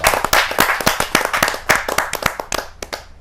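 Loud, close applause welcoming a guest at a kavi sammelan poetry gathering, dense sharp hand claps in an uneven burst that gradually thins out toward the end.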